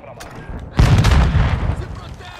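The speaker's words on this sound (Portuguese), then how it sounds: "o cara tá dando tiro de RPG aqui em mim" An RPG rocket blast in a Call of Duty video game, one sudden loud boom with a rumbling tail, preceded by quieter gunfire, while a player speaks.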